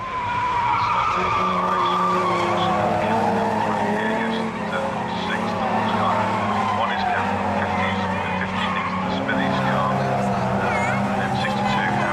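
Healey race car at Castle Combe locking its wheels and drifting through a corner, tyres skidding loudly with a sustained squeal over steady engine roar and circuit noise, continuous and close throughout.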